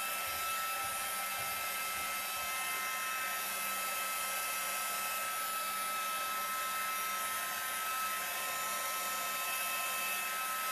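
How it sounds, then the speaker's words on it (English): A hair dryer blows with a steady, high-pitched whir and rushing air, drying the edges of rice paper on a mixed-media canvas, continuous and close for the whole stretch, no voices. "I'm going to use my dryer to dry the edges of this a little bit"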